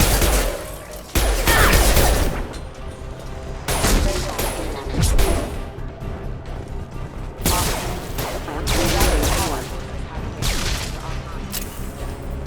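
Dense gunfire in Mass Effect 2 Legendary Edition, loud sustained volleys and booms in waves across the whole stretch, with voices speaking over the combat.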